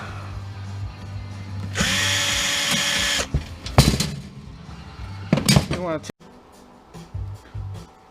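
Power drill removing screws from metal side covers on a Baumfolder gate being scrapped, a loud whine lasting over a second, followed by clanks and shorter bursts, with someone talking around it.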